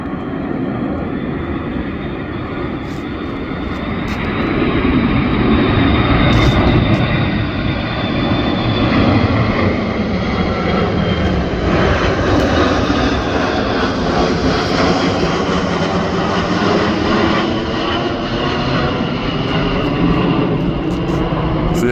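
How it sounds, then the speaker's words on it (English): An E-6 Mercury jet aircraft passes overhead with a loud, sustained engine roar. The roar swells after a few seconds and stays heavy and broad as the plane flies by, with no talking. "So yeah, there's that, pretty loud, pretty cool plane"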